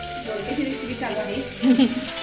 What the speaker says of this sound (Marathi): तोपर्यंत अर्चना इकडे कुकरमध्ये दोडका आहे तर दोडका फोडणी टाकते